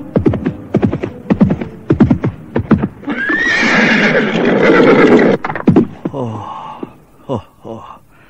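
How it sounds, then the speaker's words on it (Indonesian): Two horses on a rocky mountain road toward Majapahit at dawn, hooves clip-clopping in a steady rhythm with loud, close whinnies and neighs breaking over the hoofbeats. "Kuda mereka terus melaju, derapnya mengisi kesunyian fajar di pegunungan."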